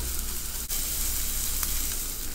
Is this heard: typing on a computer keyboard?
no